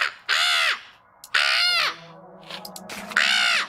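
A human voice imitates a crow, giving three loud, drawn-out caws with short pauses between them and faint background noise in the gaps.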